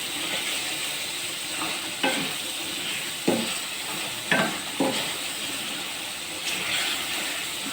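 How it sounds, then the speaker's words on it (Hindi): Masala and meat being stir-fried with a spoon over high heat: a continuous sizzle broken by several sharp scrapes and knocks of the spoon against the pan, close and alone. "मैं ये तेज़ आंच पर ये सारा मसाला गोश्त के साथ में भून रही हूँ।"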